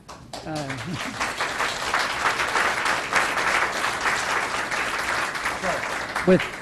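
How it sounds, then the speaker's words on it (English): Applause fills a school board of education meeting as the room approves a motion, steady broadband clapping from a seated audience that runs throughout, with a few brief voices breaking through near the start and end. "I will take from your applause that you are all in favor of it"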